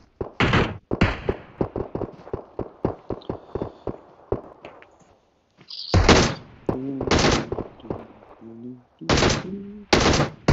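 Video game gunfire fills the scene: sharp bursts of rapid shots and single cracks, loud and close, broken by short pauses, with brief louder blasts near the end and a voice talking in between.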